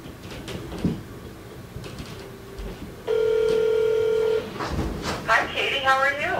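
Telephone line connecting during a call in an office setting: a sustained dial tone, then a rapid burst of dialing beeps. Voices talk before and after.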